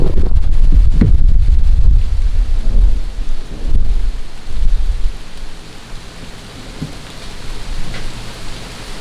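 A storm during tornado weather sends heavy wind gusts buffeting the microphone, with rumbling thunder and rain, loud at first and then settling into a steadier, quieter roar.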